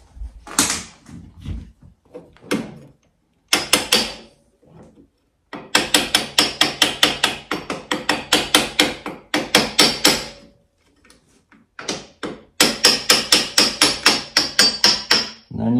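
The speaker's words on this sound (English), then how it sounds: "tap it until you feel the jackshaft bottom out" Hammer tapping a jackshaft into place during dual bearing installation on a Timbersled, sharp metallic blows in quick rhythmic bursts, loud and close, with short pauses between runs of strikes and no talking.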